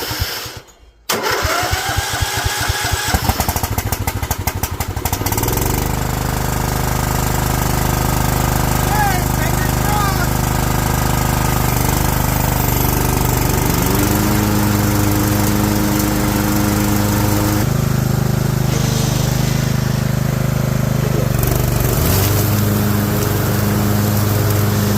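A 2004 John Deere L110 lawn tractor, choke fully on, cranks briefly and catches, then its small engine runs loudly and steadily at close range with slight shifts in pitch.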